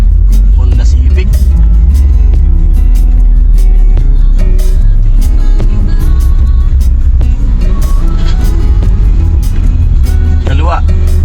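A Honda Civic service car driving to work, a steady loud engine and road rumble heard from inside the cabin, with occasional clicks and passing traffic under people talking.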